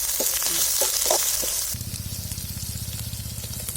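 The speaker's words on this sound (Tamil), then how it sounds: "நல்லா இதில் எண்ணெயிலேயே நல்லா வதக்கிக்கலாம்." Onion, green chilli and mint frying in oil in a pan for a Tamil ivy gourd fry, the bright steady sizzle at close range after some stirring scrapes and clicks at the start.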